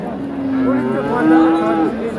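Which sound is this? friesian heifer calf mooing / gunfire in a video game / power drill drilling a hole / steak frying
friesian heifer calf mooing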